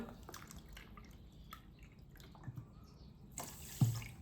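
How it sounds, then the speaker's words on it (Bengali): Water is poured cup by cup into a pot of sugar for gulab jamun syrup, making soft, faint splashes and trickles in short bursts at close range in a quiet kitchen. "এবার আড়াই কাপ জল দেওয়া লাগবে এই যে এক কাপ জল দুই কাপ জল"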